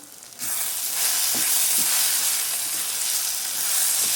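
Chilli powder and salt being stirred into a frying drumstick and egg curry, a steady loud sizzle that rises after a brief quieter start and holds throughout with faint scraping of the stir.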